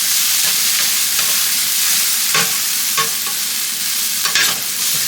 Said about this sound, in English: Give that a quick stir here.